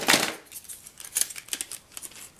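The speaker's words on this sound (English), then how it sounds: "All kinds of scissors," Sewing and craft scissors are handled at close range, giving a few quiet, crisp metallic snips and clinks in short, uneven bursts with no talking.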